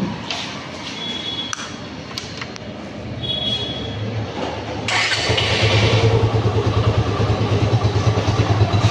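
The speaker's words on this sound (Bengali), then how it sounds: "ফ্রি অ্যাক্সেলেটারের ইঞ্জিনের সাউন্ড, ফ্রি অ্যাক্সেলেটারের স্যালেন্সারের।" A 2022 Suzuki Gixxer SF 155 motorcycle engine runs at idle nearby, a steady low mid-pitched throb that grows louder and fuller about halfway through, without talk.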